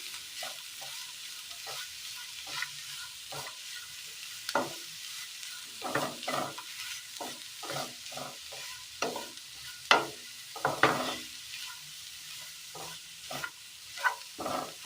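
Cabbage and salt stirred in a hot pan: a quiet sizzle under repeated scraping and stirring strokes that come at an irregular pace, close by.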